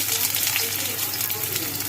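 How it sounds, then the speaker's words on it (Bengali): Chopped onion fries in oil in a wok for a spicy boal fish curry, giving a short steady sizzling hiss, close and fairly loud without talk. "পেঁয়াজটা একটু ভাজা ভাজা করে নিচ্ছি। খুব ভাজবো না, অল্প ভাজা।"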